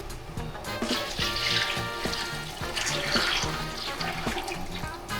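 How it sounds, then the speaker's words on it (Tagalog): Water poured from a tap into a pot of sinigang tamarind soup in a home kitchen, a steady close splashing rush with faint sizzling underneath, running without a break throughout. "Lagyan natin siya ng water."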